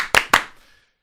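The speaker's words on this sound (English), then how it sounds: "3 claps one time, fellas" Two crisp hand claps ring out close together, then fade into a short room echo before silence.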